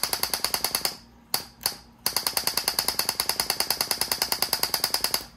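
A Gun4IR Guncon light gun's recoil mechanism fires in rapid, sharp mechanical clacks, a steady machine-gun-like rattle close up that pauses briefly for a few single shots before resuming its even rhythm.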